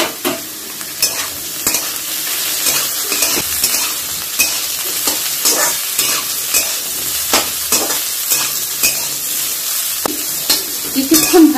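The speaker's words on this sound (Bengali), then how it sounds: "আমি গাজরটা আর বিনসগুলো প্রথমে দিলাম খোলায়।" Carrots and beans stir-fry in a pan, a steady sizzle broken by repeated scraping and stirring knocks at an irregular rhythm, close and fairly loud with no talk.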